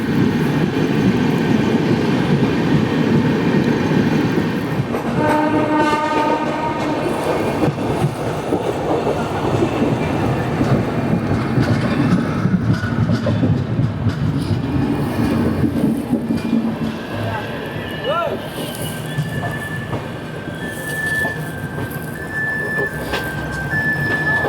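The Saurashtra Janta Express rolls along from inside the coach, a loud continuous rumble with rhythmic clickety-clack of wheels over rail joints and occasional thin squeals and tones near the end.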